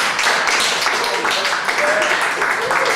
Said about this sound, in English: Give these guys a round of applause, thank you.